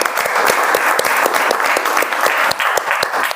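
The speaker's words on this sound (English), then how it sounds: "with the round of applause" Brief round of audience applause at a Toastmasters club meeting, a dense, steady burst of many hands clapping close by with no talking over it.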